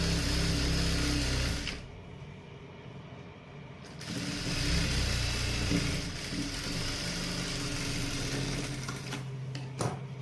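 A sewing machine stitches pleats on salwar pants in rapid whirring bursts, pausing briefly midway before running again with a steady mechanical hum and a few sharp clicks near the end.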